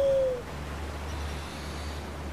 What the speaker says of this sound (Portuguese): coruja do caramba.